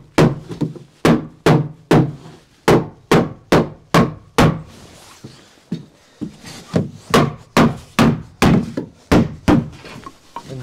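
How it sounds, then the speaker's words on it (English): A hammer striking a wooden block to tap insulation boards into place during a garden room build, about twenty loud, evenly spaced thuds with a short pause midway, close and unaccompanied by talk. "If it don't go in straight away, you just get your hammer and block."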